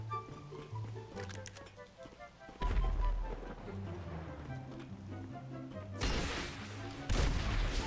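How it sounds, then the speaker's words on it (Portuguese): Explosive bazooka blasts in GTA V Online, with a big booming impact midway and more heavy bursts near the end over game background music, fairly loud and close. "Bazuca versus bazuca."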